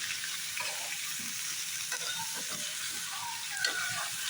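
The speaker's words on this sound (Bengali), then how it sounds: "শসাটা আমি এভাবেই করবো ভাজা" A steady, fairly faint sizzle of cucumber frying in oil, with soft stirring sounds scattered throughout.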